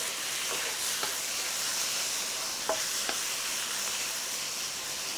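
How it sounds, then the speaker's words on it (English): Stir-fry ingredients tossed in a hot pan give a steady, close sizzle and hiss with a few soft scrapes and thumps of food shifting, and no voices. "Now I'm going to give everything a quick toss."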